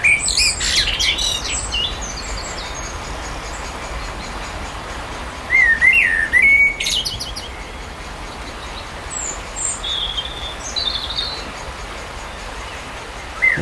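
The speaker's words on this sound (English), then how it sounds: "and the song of the birds" Birds by a Welsh river chirp and tweet in short bursts, loudest at the start and again midway, over a steady wash of river and distant traffic noise.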